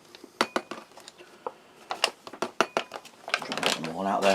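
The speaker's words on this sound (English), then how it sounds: "I do have another bowl here, so I shall bring that in just so I can add the eggs and bacon" A bowl clatters and knocks against a hard surface in a series of sharp clinks and thuds as it is brought in and set down, with a voice talking near the end.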